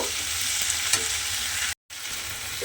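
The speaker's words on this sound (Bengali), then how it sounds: "এই পেঁয়াজ আদা কাঁচা লঙ্কা টমেটোটাকে এইভাবে কিছুক্ষণ রান্না হতে দেব।" Onion, ginger, green chili and tomato masala cooks in a pan with a quiet, even sizzle and occasional stirring scrapes, broken by a brief moment of silence.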